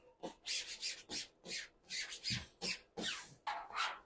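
Hand sanding with a fine 280-mesh abrasive, a series of brisk rubbing strokes in an uneven rhythm, close and fairly loud, no voices.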